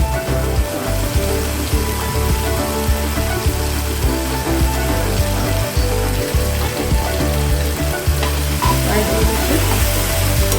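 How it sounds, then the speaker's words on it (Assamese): Soya chili sizzles loudly in a hot pan while a spoon stirs it, giving steady frying crackle with frequent scraping strokes and no talk. "ভালকৈ লৰাই ল'ম।"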